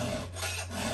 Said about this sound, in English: Now, we're filing.